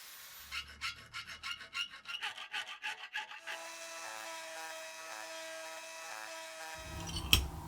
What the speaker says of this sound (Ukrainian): Лобзиком пилкою по металу виріжемо внутрішню частину а зовні відріжемо болгаркою.